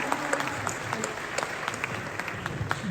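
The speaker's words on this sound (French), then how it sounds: "Mais encore, on applaudit encore très fort." An event audience keeps up steady, moderately loud applause with crisp individual claps throughout, a few faint voices in the crowd.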